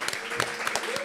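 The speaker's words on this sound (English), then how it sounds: "Can we make a round of applause for my brother" A brief snatch of audience clapping for a comedian at a comedy show, rapid dense claps mixed with a voice and a whoop, lasting only about a second.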